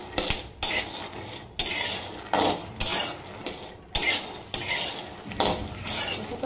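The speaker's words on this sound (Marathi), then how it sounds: "अशा पद्धतीने मी आता शेंगदाणे पूर्ण भाजून घेतली" Peanuts being dry-roasted in a kadhai are stirred with a metal spoon, giving repeated rhythmic scraping and rattling strokes, about one per second, close and fairly loud with no talk.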